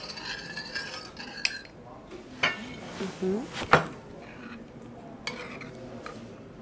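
A utensil scrapes and clinks against a plate as Armenian khash is stirred, in a few irregular strokes and taps at close range.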